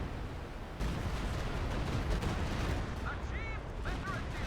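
Artillery barrage and gunfire from a Company of Heroes 2 battle, a dense, continuous rumble of blasts and shots with a louder burst early on, under a commentator's voice.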